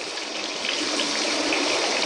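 Water streams steadily from a leaking tap in a continuous, fairly loud broadband rush, with no voices and no pause across the short span.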